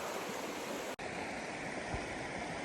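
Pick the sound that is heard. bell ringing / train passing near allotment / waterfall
waterfall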